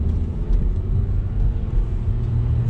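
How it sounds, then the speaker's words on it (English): A manual transmission car pulls away from a stop sign, a steady low engine rumble and drone heard from inside the cabin, moderately loud with no talking. "I'm in third gear, gonna put it to first gear, clutch up, give a little bit of gas"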